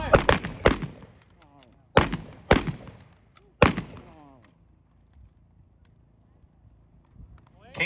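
K98 Mauser rifles fire at a gun show demonstration. Five loud, sharp cracks come in ragged pairs and a single, each followed by a rolling echo, and then the scene falls quiet.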